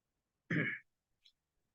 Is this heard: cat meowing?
no